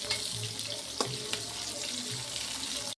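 Chopped onion and green chillies frying in a pan, a steady close sizzle with occasional scrapes and clicks of a spoon stirring, no talking.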